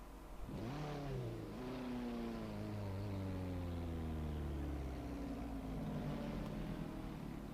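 A race car engine in a racing video game revs hard and loud, pitch climbing and sustained high before the engine blows up, with no talking over it.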